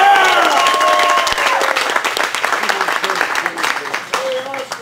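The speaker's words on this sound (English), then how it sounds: "Having a nice round of applause for Oscar" Applause and clapping from a crowd at an outdoor store event in Lake Forest, greeting a second-place finisher. Steady clapping fills most of the stretch and tapers slightly toward the end, mixed with voices and crowd noise.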